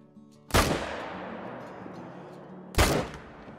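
Two loud, sharp hunting rifle shots ring out in theHunter: Call of the Wild while stalking sika deer. The second comes about two seconds after the first, and each blast leaves a long rolling echo across open terrain.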